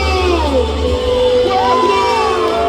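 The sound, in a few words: crowd shouting and cheering at bonfire festival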